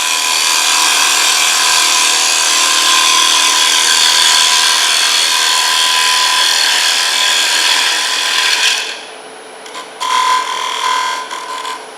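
A tool scrapes a dried green wooden bowl blank spinning on a wood lathe, a loud continuous hissing cut that stops near the end, leaving a machine whine and brief scraping touches.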